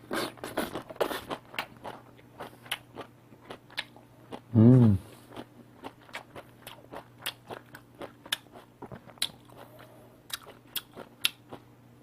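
Someone chews a big mouthful of seasoned sow thistle greens that were boiled about ten minutes, with soft crunchy bites repeating steadily and close to the mic, plus one brief louder hum partway through.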